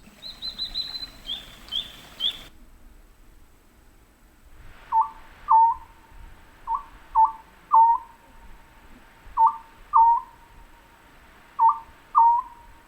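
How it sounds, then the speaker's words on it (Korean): An Oriental scops owl gives repeated soft, hooting two-note calls in evenly spaced pairs, clear against a quiet forest background after a brief higher bird call at the start. "이 소리의 주인공은 바로 소쩍새입니다."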